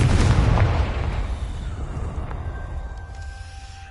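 A Confringo spell explodes in Hogwarts Legacy with a single loud booming blast that rolls off into a fading rumble, followed by faint tonal game effects.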